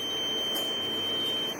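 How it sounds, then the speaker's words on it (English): A lab mixing machine's small Siemens PLC controller, which has no program loaded, sounds a steady, high electronic alarm tone. The tone holds continuously, close and fairly loud, with no talk. "alarm sound"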